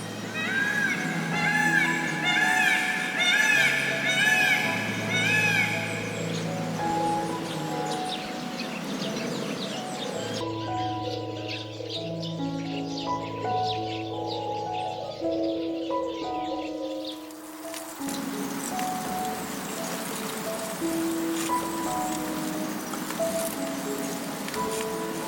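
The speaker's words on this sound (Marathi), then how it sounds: "कुठलाही गोंगाट नाही, फक्त आणि फक्त पक्ष्यांचा आवाज येतोय कानी" Birds calling on a quiet hilltop near Satara, where a peacock also cries out. Bright, repeated chirping calls stand out in the first few seconds, then continue more softly over steady open-air ambience.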